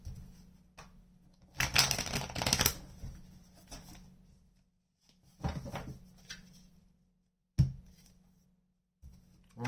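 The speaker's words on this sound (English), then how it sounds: "One more shuffle." Several bursts of papery riffling and shuffling, with quiet pauses in between and a few soft taps, close to the microphone.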